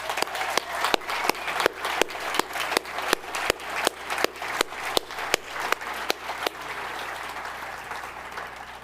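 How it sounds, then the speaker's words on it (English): An audience at a college commencement for data science, statistics, mathematics and natural science claps steadily for standing honors program graduates, with many hands beating in a rapid, fairly regular patter that thins and fades near the end. "so that we may applaud your remarkable academic accomplishments"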